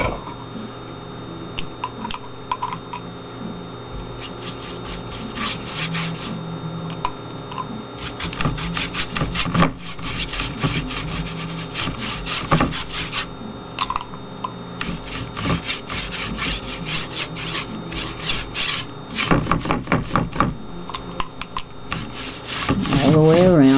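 A brush spreads extender across a painting surface in a long series of steady, rhythmic strokes, close and fairly loud, with brief pauses between passes and no talk.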